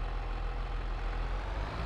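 Tractor engine in Farming Simulator 22 idles in a steady, low rumbling drone with a constant level and no voices over it.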